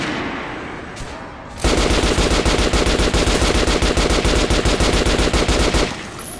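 Rapid automatic gunfire at a shooting range in the video game Metro Last Light, a loud continuous burst of close shots lasting several seconds after a quiet lead-in, then stopping abruptly.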